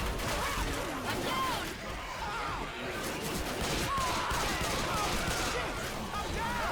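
Nonstop gunfire fills the scene as players shoot a Smoker in the video game Left 4 Dead 2 on an Expert No Mercy campaign. The shots come as a dense, loud, unbroken fusillade.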